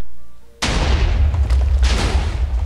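A large-calibre TNT cannon in Minecraft fires with an abrupt, loud boom, then rumbling explosions and blasts continue densely through the rest of the moment.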